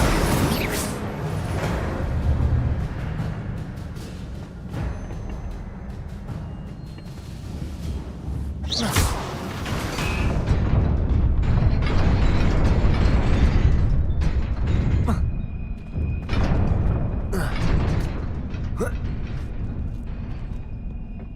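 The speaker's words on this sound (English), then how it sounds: "Incendio!" Incendio fire spell cast in Hogwarts Legacy bursts with a whooshing flare, followed by crackling, rumbling combat effects and mechanical clanks, loud and close in a busy game scene.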